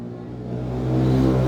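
Engine revving at a comical motorcycle race in Japan, a steady mid-pitched drone that swells louder and higher over a second and a half, with no voices.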